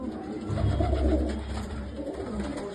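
Homer pigeons coo in low, throaty rolling calls close by, a soft continuous burbling over faint background noise.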